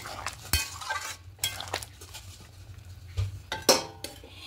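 A utensil stirs a vegetarian potato and cauliflower curry mixture in a pot, giving scattered metallic clinks and scrapes at an uneven pace. The sounds are close and moderately loud over a low background hum, with no talking.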